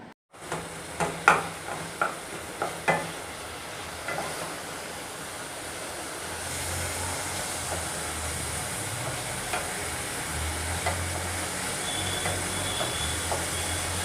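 A jaggery and coconut filling is stirred while cooking in a pan, opening with a series of sharp spoon knocks against the metal, then settling into a continuous soft sizzle and scraping stir.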